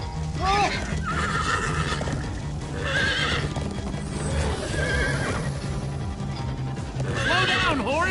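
Video game horses in Minecraft Story Mode whinny repeatedly, shrill rising and falling neighs over a rapid drumming of hooves, with voices talking underneath.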